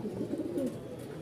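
Fancy pigeons coo steadily in low, rolling murmurs, faint and continuous through a short stretch with no talk.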